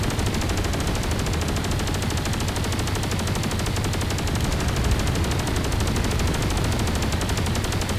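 Point defense guns in the Space Engineers game fire continuously, a dense unbroken rattle of rapid shots at steady loudness throughout, with no talking.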